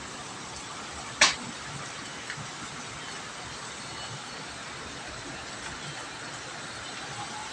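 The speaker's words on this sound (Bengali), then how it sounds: "তুমুল বৃষ্টি যাকে বলে বুঝতে পারা যাচ্ছে কিনা জানি না" A heavy downpour falls outside a building, a faint, even, continuous hiss from a distance, broken once by a brief sharp click near the start.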